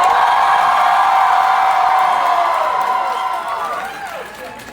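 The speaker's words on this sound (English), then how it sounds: "On the count of 3, you're gonna cheer." Convention audience at an anime event cheering on cue after a count of three: a dense, loud crowd roar with whoops, holding steady and then fading over several seconds.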